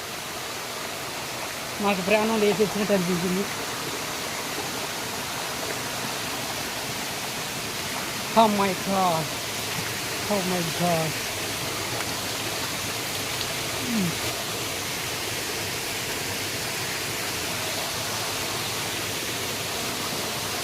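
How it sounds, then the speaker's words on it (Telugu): Erakampalem waterfall roars as a constant, dense rush of falling water, steady and enveloping throughout, with voices speaking and exclaiming over it now and then. "వాటర్ ఫాల్ దగ్గరికి వచ్చాం"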